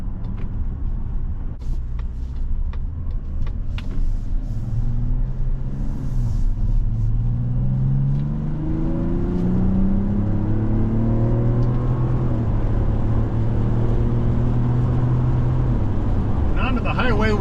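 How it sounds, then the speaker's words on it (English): A 2025 Mazda CX-70 Turbo S Premium's twin-turbo inline-six pulls hard onto a highway, a steady cabin rumble with rising engine tone as it accelerates, heard from inside under someone talking. "Really smooth power out of this twin turbo inline 6 from Mazda."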